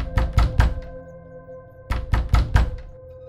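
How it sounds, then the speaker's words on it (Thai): Loud knocking on a door as a sound effect in a narrated ghost story: two bursts of three heavy, resonant thuds, close and forceful, separated by about a second of ringing quiet. "กลางดึกคืนนั้นคุณแบงค์สะดุ้งตื่นขึ้นมาเพราะได้ยินเสียงเคาะประตูเสียงดัง"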